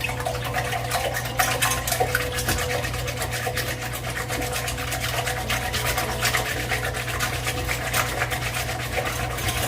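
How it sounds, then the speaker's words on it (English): Eggs are whisked by hand in a bowl for chow mein, a fast, steady rhythmic tapping and scraping that carries on without pause and without talk. "Whisk your eggs light and frothy."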